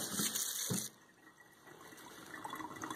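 Tap water runs onto goose shoulder feathers to wet them before dyeing, a soft rushing stream that changes tone and drops in level partway through, then continues as a quieter, uneven gush.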